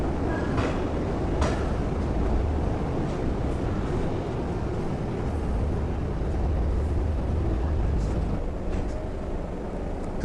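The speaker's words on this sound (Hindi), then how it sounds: "देखो एकदम लास्ट कोच से कुछ ऐसा लगता है जब ट्रेन खुलती है।" A diesel locomotive train pulls away, heard from the last Vistadome coach on a scenic northeast India route: a loud, continuous rumbling roar of wheels and carriage noise with a few sharp clanks, steady throughout with no speech.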